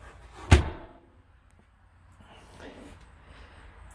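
A small fridge door in a 2023 Freightliner Cascadia truck cab shuts with one sharp, close thud, followed by quiet cab ambience and faint low talk.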